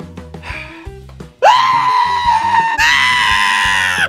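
A person screams in a dark room, two long, loud, shrill cries that break in after scattered bumps and rustles.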